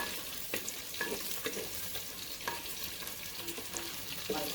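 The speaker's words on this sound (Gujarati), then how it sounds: "મિત્રો, તેલમાં સરસ એવા મરચાં ફ્રાય થઈ ગયા છે." Long-cut mild green chillies sizzle steadily in hot oil, a dense close crackle and hiss with occasional stirring scrapes in the pan.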